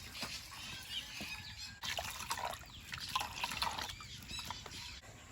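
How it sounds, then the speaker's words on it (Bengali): Water pours and trickles while something is rinsed and strained in the kitchen, a continuous splashing, dribbling flow with small drips and a brief break, fairly quiet and close. "এবার জল দিয়ে ভালো করে ছেঁকে নেব"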